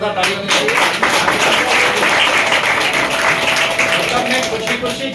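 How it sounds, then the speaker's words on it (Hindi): An audience at a motivational training session applauds the trainer with loud, continuous clapping, a dense close crowd sound that stays strong throughout, with a voice faintly present beneath it. "सर के लिए जोरदार तालियां होनी चाहिए।"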